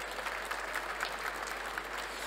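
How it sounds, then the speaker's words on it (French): Applause from a cybersecurity conference audience after a red team talk, a continuous wash of clapping from a mid-sized crowd throughout. "Merci Quentin, on peut vous applaudir."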